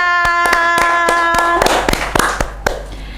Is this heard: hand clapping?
yes